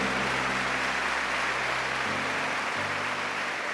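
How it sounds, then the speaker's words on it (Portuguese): Sustained applause from a church audience at a talk by a priest, steady and broad throughout with a low hum underneath, no speech over it. "Aí vamos aplaudir os nossos 50 aqui."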